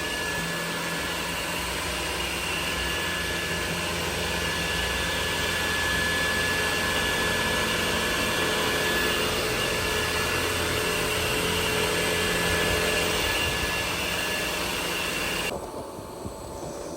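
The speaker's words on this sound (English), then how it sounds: "it's quite a bit of air coming out the back, way more than a Roomba" Dyson 360 Vis Nav robot vacuum running steadily, a constant broadband whir and rush of air blowing out close by, holding level for a long stretch before cutting back near the end.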